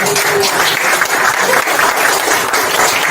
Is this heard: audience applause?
yes